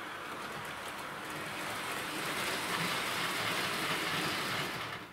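A model train rolling along track laid on cork, a steady close rumble and clatter with a rain-like wash of wheel noise that swells slightly in the middle and eases off at the end.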